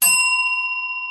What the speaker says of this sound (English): I found my old bell, so it'll be going like this tonight